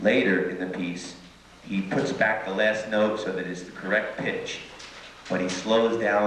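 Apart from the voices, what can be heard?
No everyday noise stands out behind the speech.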